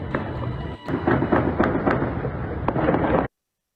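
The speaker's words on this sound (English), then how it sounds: "Intense gunfire is being heard in Tehran, the capital of Iran." Dense, rapid bursts of gunfire crackle and thud continuously for several seconds during street protests in Tehran, Iran, then stop abruptly.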